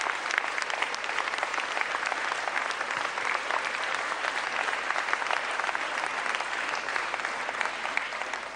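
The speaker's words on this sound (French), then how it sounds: "On peut les applaudir." An audience at a political speech applauds, dense even clapping sustained at a steady level throughout, heard a little distant and without talk.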